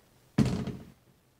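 A closet door in a house gives a single dull thunk as it opens, one short solid knock that fades quickly into quiet room tone.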